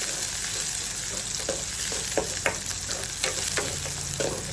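Sliced onion sizzles steadily in a small kadai of hot oil with mustard and cumin seeds, while a spoon scrapes and stirs in short, regular strokes close by; no one speaks.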